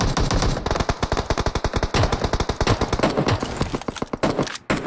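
Rapid automatic gunfire from PUBG, a battle royale shooter, rattles in fast dense bursts almost without pause, loud and close, with brief gaps near the end.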